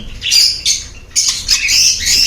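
Green Fischer's lovebirds in a bird shop give loud, harsh squawks in two bursts separated by a short pause, close and sharp with no talk.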